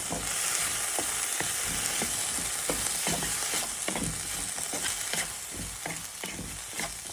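Bitter gourd and potato curry with Kashmiri red chilli is stirred in a pan, giving a continuous close sizzle with repeated scraping strokes of the spatula at a steady rhythm.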